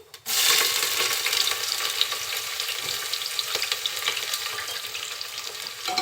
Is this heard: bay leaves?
yes